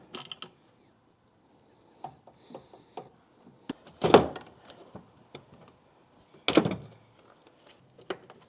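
Trunk of a Mitsubishi Evo 9 being popped: sparse quiet clicks and latch clunks, with two sharper mechanical thunks of the release and lid opening, close by in a quiet space.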